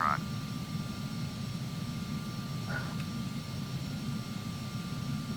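An Embraer jet taxiing in Microsoft Flight Simulator X, a low steady engine rumble with a faint whine, quiet and unchanging, with a couple of short radio chirps.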